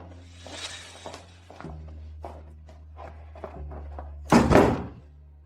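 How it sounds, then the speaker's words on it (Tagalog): Door being shut with a single loud thunk near the end, preceded by quiet scuffs and movement in a quiet room with a low hum. "Bakit mo isinasara ang pinto?"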